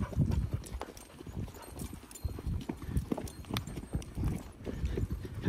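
Horse hooves clip-clopping at a steady walking pace, fairly close, with irregular overlapping footfalls and light outdoor background noise on a ride back to the truck.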